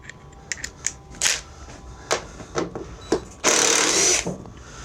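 Small cordless impact gun fitted with a bit socket removing the guard from a John Deere LA130 riding mower, with several short whirring bursts, clicks and clanks, then a longer loud buzz near the end.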